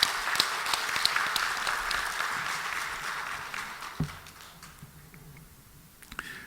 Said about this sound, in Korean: 다시 한번 뜨겁게 한번 박수 한번 하십시다.